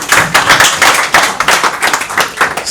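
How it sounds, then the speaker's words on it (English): An audience claps in a classroom-style session, a dense burst of applause with rapid irregular hand claps swelling and easing across the whole stretch, fairly loud and close, with no voices over it. "let us give a big round of applause to her"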